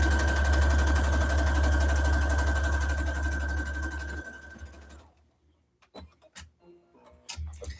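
A sewing machine stitches a reversible mini tote bag, a steady close rhythmic whirring with ticking that stops midway, followed by scattered handling clicks and rustles.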